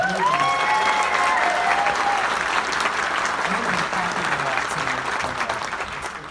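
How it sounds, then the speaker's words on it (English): A theater audience at a film Q&A gives a loud, sustained round of applause for the film and its director, with a brief voice and some whoops over the clapping that slowly thins toward the end. "let's have another round of applause for the film, for Ryan"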